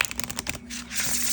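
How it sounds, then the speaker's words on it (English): Foiled tarot cards are shuffled by hand in a quick run of crisp, papery clicks and flutters at close range, followed by a softer rustle, with no talking. "I'm just gonna shuffle because I like to shuffle."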